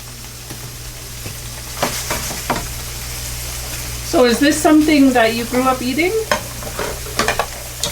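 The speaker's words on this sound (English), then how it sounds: "you're going to be cooking the fish, frying the fish in a frying pan" Fish sizzles steadily in a hot frying pan while a person speaks over it; soft stirring and scraping sounds come through the frying.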